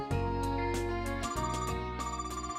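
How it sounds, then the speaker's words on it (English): A video game phone ringtone for an incoming call, a bright melodic electronic tune of repeated tones and chords, clear and alone for a couple of seconds. "Oh, phone call first."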